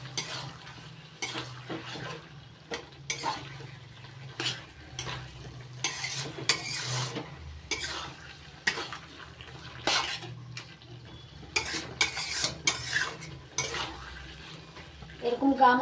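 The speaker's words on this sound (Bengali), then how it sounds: "চিনিটা নাড়াচাড়া করে মিশিয়ে নিচ্ছি" A spoon stirs sugar into a vegetarian Malabar spinach curry in a pan, giving repeated soft scrapes and clinks over a faint sizzle, with quiet pauses between strokes and no talking.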